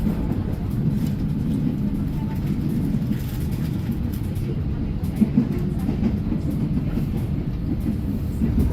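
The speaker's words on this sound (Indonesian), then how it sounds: "kereta api Cikuray sudah berangkat dari stasiun Garut" The Cikuray economy passenger train pulls away from Garut station, a loud continuous low rumble of rail wagons with a faint clickety-clack and a brief sharp knock midway, heard from inside the carriage.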